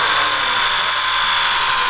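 Blade 150 FX small RC helicopter flying, a loud steady high-pitched whine of the motor and rotor, constant and close with no talking.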